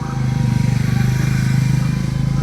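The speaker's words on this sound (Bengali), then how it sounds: "আমি আমার ভটভটির মধ্যে একটু ঘুরে ঘুরে বাড়ি যাবে" A motorcycle engine running steadily close by while riding, a continuous low throbbing drone with a fast regular pulse, loud and alone.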